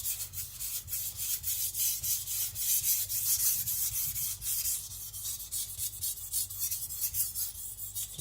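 Repeated steady strokes of a Tojiro Shirogami nakiri blade rubbing across a wet whetstone, close and continuous, with a soft gritty rasp in a regular rhythm and no talking.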